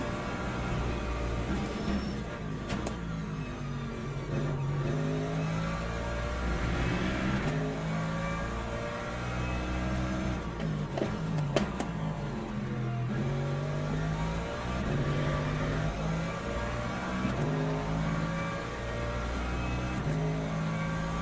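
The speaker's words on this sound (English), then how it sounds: "Another hypercar coming through." A hypercar's racing engine in Le Mans Ultimate, sustained and droning with shifting pitch as it passes close among a crowded grid at Le Mans, steady and loud throughout with no talk.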